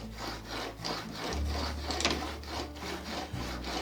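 A blade is rubbed back and forth on a King S3 whetstone, 3,000 or 6,000 grit, making rhythmic gritty scraping strokes roughly every third of a second, close and fairly quiet with nothing else heard.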